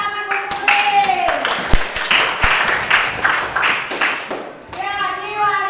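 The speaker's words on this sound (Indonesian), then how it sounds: "Tepuk tangan" Children in an Indonesian classroom clap for a classmate who answered well, a dense burst of many small hands lasting several seconds, with the teacher's voice speaking just before and after.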